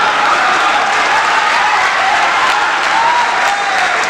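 Loud, sustained applause from a large hall audience at a Hindi comedy and poetry show in Delhi, a dense wash of clapping that holds steady throughout.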